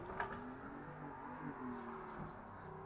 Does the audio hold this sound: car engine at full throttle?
yes